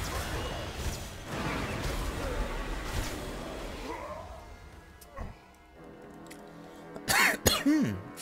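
A person coughs into a microphone, a few harsh close coughs near the end following muffled background noise and faint sound from a game.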